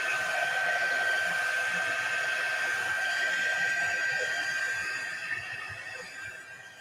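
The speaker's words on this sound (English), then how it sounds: "While I plug in my quick dry tool." A quick-dry heat tool blows air in a steady, even whoosh with a thin constant whine on top, near and loud, then easing off slightly toward the end.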